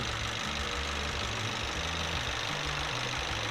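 A motorhome engine idling steadily with the oil filler cap removed, blow-by pressure escaping, a continuous low rumble with a rough, knocking pulse.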